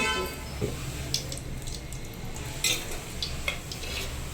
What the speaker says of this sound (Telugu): నేను ఆయిల్ పోస్తున్నా